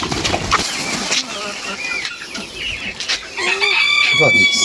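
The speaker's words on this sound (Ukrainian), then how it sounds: "Ось курочка." Chickens cluck loudly and close by while a four-month-old rooster crows in bursts on a backyard poultry setting, the calls overlapping continuously with a voice faintly underneath.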